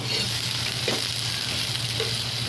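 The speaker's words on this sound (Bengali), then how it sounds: "এরপর আমি দিয়ে দিচ্ছি এটা আদা রসুন আর লঙ্কাটা ভালো করে হালকাভাবে নেড়ে চেড়ে নিচ্ছি।" Ginger, garlic and green chili frying in hot oil for a Bengali egg chop, a short burst of continuous close sizzling with a couple of soft stirring scrapes.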